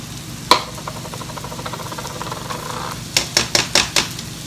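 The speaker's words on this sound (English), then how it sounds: "first thing I'm going to do is add my mushrooms and my green onions, and we're going to kick those up just a little bit" Mushrooms and green onions sizzle in melted butter in a skillet with a steady, close hiss, broken by one sharp clank and then a quick run of five utensil knocks near the end.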